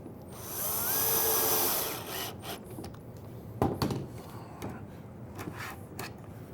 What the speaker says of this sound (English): We're going to go ahead and put 2 screws in the slide.